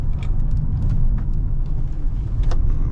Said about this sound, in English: I'll pick up some speed and go over these bumps here